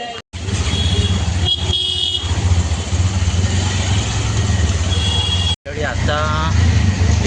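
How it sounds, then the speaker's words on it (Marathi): An auto rickshaw rides through evening traffic, its small engine droning steadily up close with road noise and faint horn toots around it, broken by two brief dropouts in the sound. "रिक्षा भेटली आणि आता मी चाललो आहे"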